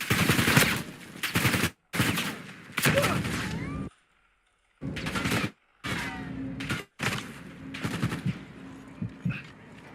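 Gunfire in a video game: loud bursts of automatic fire and repeated shots with short gaps between them, sometimes overlapping other game noise and a voice.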